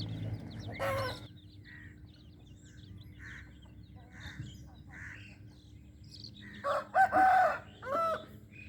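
Chickens clucking and calling in short scattered bursts, a couple of louder calls near the end over a faint steady hum.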